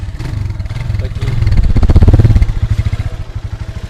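Spark 200 R27 motorcycle engine starting up, a loud close idle that rises into a rapid throbbing putter and then settles, with a voice heard briefly over it.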